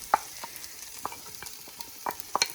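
Big onions added to a pot for beef stew, with tomato paste, sizzling and being stirred; faint frying hiss with scattered sharp scrapes and clicks of the stirring utensil, close by.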